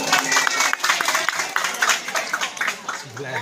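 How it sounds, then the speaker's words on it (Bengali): A comedy show audience claps in uneven bursts, fairly close, while people talk over the clapping. "যদি ভালো লাগে তো তালি মারো।"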